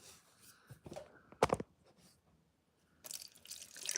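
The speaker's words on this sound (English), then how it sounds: "Water in the coffee pot." Water splashes and trickles in short bursts into a coffee pot, with a louder pour near the middle and a steady fill toward the end, close up.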